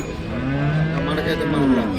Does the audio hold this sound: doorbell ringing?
no